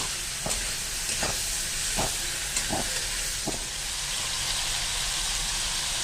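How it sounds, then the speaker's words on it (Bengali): Shrimp frying lightly in mustard oil in a wok, a steady dense hiss and sizzle with a few soft clinks or stirs breaking through, close and continuous with no talking. "প্রথমে কড়াইয়ে সর্ষের তেল দিয়ে চিংড়ি মাছগুলো একটু হালকা করে ভেজে নেব"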